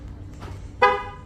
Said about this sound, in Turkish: Çift kitlemede kornamız arkadaşlar.